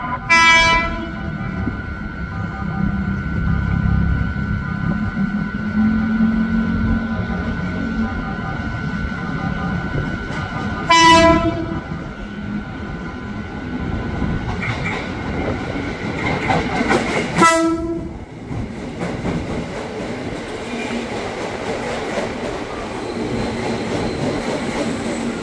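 A KRL Commuter Line electric train, a JR 205 or TM 600 set, sounds its horn at Universitas Indonesia station in two loud, sharp blasts over steady running rumble and wheel noise, with a brief station announcement in the background.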